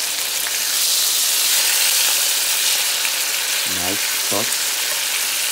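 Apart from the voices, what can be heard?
chicken breast searing in a pan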